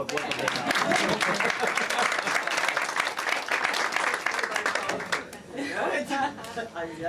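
A debate audience at an event on Turkey and the Middle East gives dense, sustained applause for about five seconds. It then thins out into scattered claps and murmuring voices.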